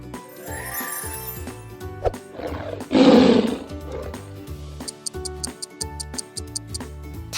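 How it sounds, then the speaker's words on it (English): A tiger roars in a burst over steady looping children's background music, one loud growling swell near the middle with ticking music continuing around it. "Tiger."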